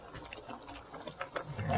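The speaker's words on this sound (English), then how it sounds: "And I'm going to pour the hot season in the pot." Hot seasoning liquid pours into a pot of oxtail, a continuous close splashing, gurgling stream with a few sharper splashes near the end.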